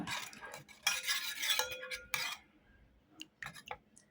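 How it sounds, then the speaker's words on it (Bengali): A spoon clinks and scrapes in a bowl while ground green chili, turmeric and coriander pastes are stirred together, with quick bursts of mixing, short pauses, and a few scattered taps near the end. "মশলাগুলো গুলানোর কাজ শেষ"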